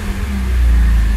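A BMW E46 330i engine with a swapped M50 intake manifold and big bore throttle body idles steadily after starting, a loud, close, continuous low rumble with no talk.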